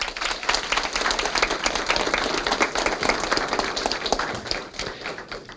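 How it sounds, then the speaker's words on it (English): A full round of applause for Chief Martinez fills a city council meeting chamber, dense and steady from many hands for several seconds, with no talking over it. "Please join me again in giving Chief Martinez another well-deserved round of applause"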